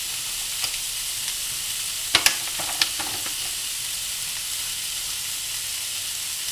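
Broccoli fries over full heat in a hot pan with a steady, close sizzle, broken by a few brief clacks and scrapes as it is stirred.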